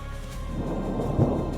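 Thunder rumbles low and heavy over a lake during a sudden storm, a brief deep roll that swells toward the end with a faint rain hiss beneath.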